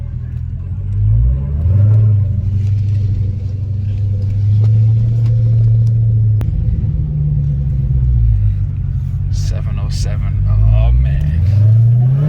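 Dodge Hellcat Charger V8 engine rumbling loudly from inside the car, rising and falling as it accelerates in repeated surges, with brief excited exclamations from an occupant.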